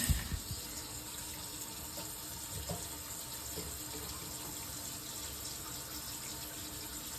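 Water runs from a kitchen sink tap as a steady, moderate hiss and splash into the basin, continuous and close, with a faint knock at the start.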